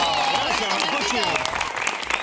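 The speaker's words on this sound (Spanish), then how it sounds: "un aplauso. Un aplauso" Applause from a studio audience on an Argentine cooking show set, steady clapping and crowd noise filling the clip with a host's voice talking and calling out over it.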